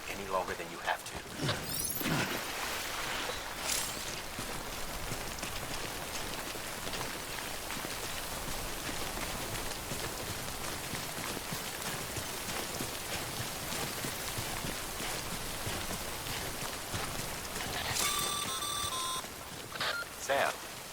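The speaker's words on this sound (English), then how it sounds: "Don't stay out in the rain any longer than you have to." Steady rain falls in the game Death Stranding, a dense, continuous hiss of drops on surfaces lasting throughout, with a voice speaking over it and a few electronic beeps near the end.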